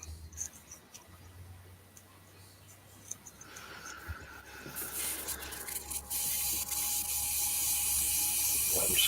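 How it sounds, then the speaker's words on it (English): Airbrush being cleaned out, quiet handling and clicks at first, then a sustained bright hissing spray of air that grows louder and continues to the end. "I'm just going to clean out my airbrush"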